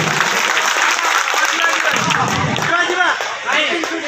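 Audience applause at an Odia jatra stage show, dense steady clapping from a crowd with a brief dip near the end, voices and cheering mixed in.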